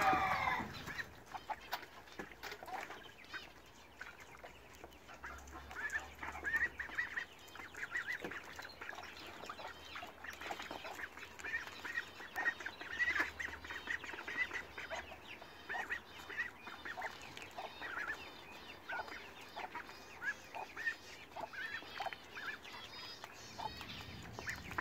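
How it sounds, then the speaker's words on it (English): Ducks on a smallholding quack and chatter continuously at close to mid distance, a busy, irregular chorus of honks and calls with no one talking. "I just sit here and chill and watch the duckies"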